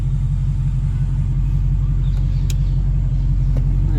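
Audi RS5 V8 with an Akrapovic exhaust, valves open, rumbling at a steady idle: a deep, continuous low burble held close and loud for the whole stretch, with no voices.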